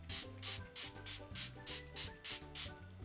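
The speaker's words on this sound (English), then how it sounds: "Okay, let's spray it on the face now." Facial mist pumped from a spray bottle onto the face, about ten short hissing bursts in a steady rhythm, close and fairly quiet, with faint music underneath and no talking.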